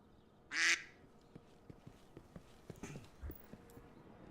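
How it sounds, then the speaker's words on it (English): A duck horn in the video game Destiny 2 gives one loud, nasal quack, followed by faint scattered clicks and taps. "Duck horn."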